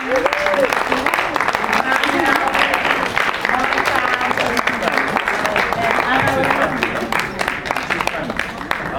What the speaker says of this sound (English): Please, ladies and gentlemen, yes, a big round of applause for Carmen.